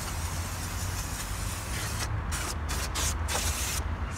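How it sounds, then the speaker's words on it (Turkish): Würth engine cleaning spray hissing from an aerosol can onto a car engine, a loud, continuous close hiss that breaks off in several short gaps as the nozzle is released and pressed again. "Şimdi böyle biraz daha iyice sıkacağım."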